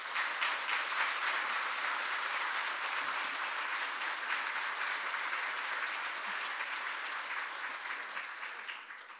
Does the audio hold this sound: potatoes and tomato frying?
no